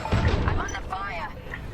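A short burst of blaster fire in the Star Wars Squadrons starfighter game lands as a muffled low blast, quickly giving way to a voice talking over faint background hum.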